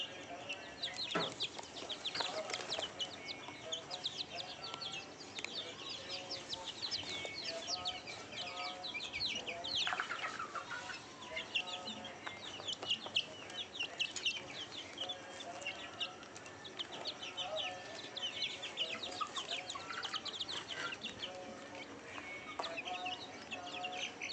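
Several village chickens cluck steadily and close by, with overlapping clucks and scattered chirps that keep up a busy, continuous clamor throughout.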